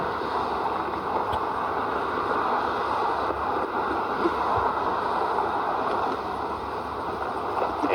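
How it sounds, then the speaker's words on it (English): Subway train rumbling beneath a viaduct, a steady, continuous broad roar that holds evenly for several seconds without talk. "you can hear a subway rumbling underneath the viaduct right now"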